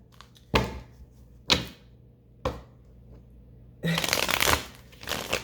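Playing cards shuffled during a tarot-style reading: four quick riffling bursts, three short ones spaced about a second apart and a longer, louder shuffle near the end, close and clear with no talking over them.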